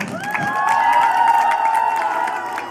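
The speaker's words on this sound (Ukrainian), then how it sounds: "Оплески йому." A crowd of children and adults at a Ukrainian children's camp creative game event cheers and claps together, a sustained bright wash of voices with whoops and a rising shout over scattered hand claps, close and fairly loud.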